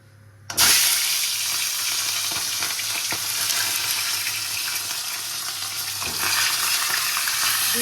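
Spices sizzle and fry loudly in hot oil in a wok, a sudden burst at the start settling into a steady, close crackle with no talking.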